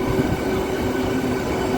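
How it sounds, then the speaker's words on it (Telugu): A MEMU local train rolls to a stop at a station platform, a loud continuous rumble of wheels and carriages with a steady tonal hum, heard up close. "2వ నెంబర్ ప్లాట్ఫామ్ మీద ఆగిందండి మన ట్రైను"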